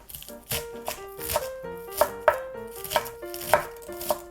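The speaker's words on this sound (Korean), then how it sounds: "미나리도 한 3cm 길이를 썰어주세요" A knife chops water dropwort into 3 cm lengths on a cutting board, quick regular thuds in a brisk rhythm, close up, with a faint tune playing in the background.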